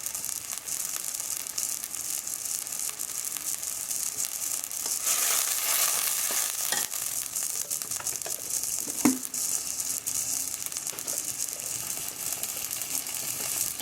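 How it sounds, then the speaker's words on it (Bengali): Fried onions with ground spice paste sizzle in a pan, a steady close hiss that swells briefly midway, with scattered stirring scrapes and one sharp clink, no voices. "বাটা মশলা দিয়ে দিলাম।"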